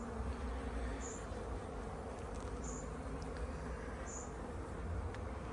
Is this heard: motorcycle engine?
no